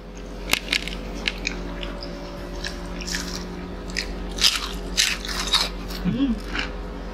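Close, crisp crunching bites and chewing of crispy french fries, repeated irregularly, with faint voices in the background.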